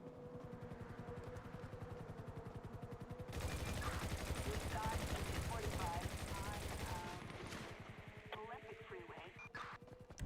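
Video game gunfire, a fast rattling automatic stream building into a dense loud barrage midway, then tapering to scattered shots, with a voice talking over parts of it.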